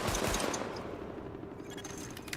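Rapid automatic gunfire aimed at highlighted targets during a weapon test in The Division, a dense burst of shots at the start tailing off into fainter reports and echo.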